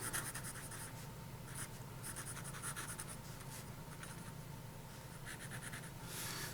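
Pelikan P120 fountain pen with a steel nib writing on paper, faint scratchy strokes in short bursts over a steady background hiss, close with no talk.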